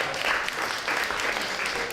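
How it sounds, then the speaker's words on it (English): A stand-up comedy crowd claps for a comedian, a short burst of fairly close, even applause with a slight swell partway through. "And a round of applause for Thibaut"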